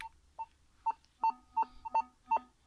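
A metal detector's signal tone: short electronic beeps repeat at a quickening, uneven pace, clear mid-pitched tones over a quiet background.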